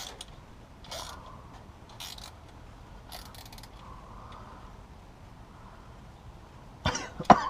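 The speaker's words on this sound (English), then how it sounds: "Oh, I'm coughing." A person coughing during transmission gasket and filter work on a TH200-R4, several short separate coughs spread through a quiet space, followed by a louder close clatter of mechanical parts near the end.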